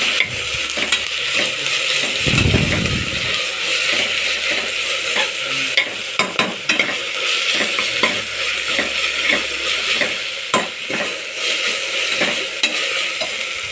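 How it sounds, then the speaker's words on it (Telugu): Ginger garlic paste fries in a pan for chicken curry, a constant bright sizzle with repeated scraping and tapping as a spoon stirs it, close and steady throughout. "తర్వాత అల్లం వెల్లుల్లి పేస్ట్ వేసాను. చక్కగా కలపండి."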